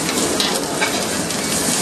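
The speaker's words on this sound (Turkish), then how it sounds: "Kurban etleri pişiyor." Loud, continuous sizzling of Eid al-Adha sacrificial meat frying in a pan, close and steady throughout with no voices.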